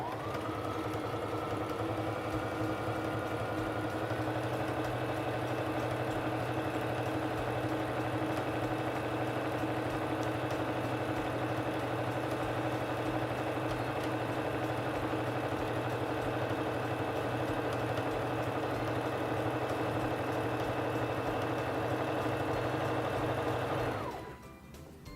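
A SINGER Fashion Mate 3342 sewing machine stitching a feather stitch, a steady, rapid mechanical whir and buzz running without a pause for about twenty-four seconds before stopping abruptly.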